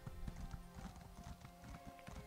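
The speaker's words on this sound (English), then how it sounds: "so I can call the horse" Horse hooves clip-clop in a steady, even rhythm as a summoned mount trots in the online video game Elder Scrolls Online, faint and distant with no talking.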